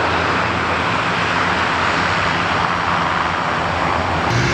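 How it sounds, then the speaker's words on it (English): An Airbus A400M finishes its landing at Farnborough Airshow, its engines making a loud, steady roar as it runs in reverse up the runway, with no voices over it. "A400M just doing its thing, just coming into land here at the end of its display"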